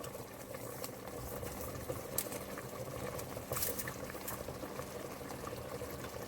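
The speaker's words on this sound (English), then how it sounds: "In this pot, I have my spaghetti boiling." Spaghetti boiling in a pot, a continuous bubbling, churning water sound at moderate level with occasional small clinks and pops.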